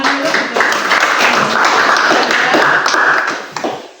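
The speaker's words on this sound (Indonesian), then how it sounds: "Tepuk tangan dulu." Students in a classroom clap their hands together in a loud, dense burst of applause lasting about four seconds, then it fades out toward the end.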